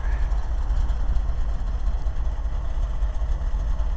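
A 1965 International R185 truck engine idles steadily after a cold start, a close, even low rumble that runs throughout without pause.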